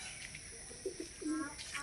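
Pigeons give a few soft, low coos in the middle of a brief stretch of faint outdoor background noise.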